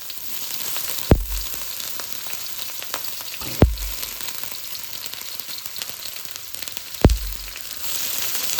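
Pieces of meat and bones drop into a pot of soup, three separate heavy plops spaced a few seconds apart over a constant bubbling hiss, with no voices.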